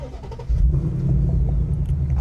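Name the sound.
V8 muscle car engine starting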